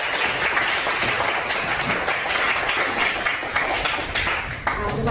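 Schoolchildren in a classroom clap for a student group, a dense, lively round of applause that runs steadily throughout and eases slightly at the end.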